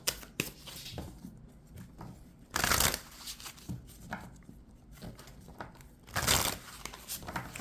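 Oracle cards shuffled close up, soft papery riffles and slides with two louder bursts of shuffling a few seconds apart, quiet and without talk.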